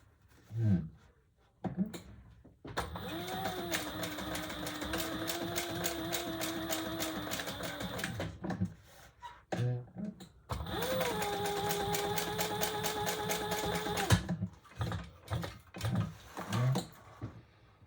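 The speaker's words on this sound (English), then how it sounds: "let's stitch that to 2 rows of stitching" A sewing machine stitches two rows along a folded strap on a Compass tote bag in two long sustained runs, with a rising motor whine at the start of each and short handling noises before, between and after.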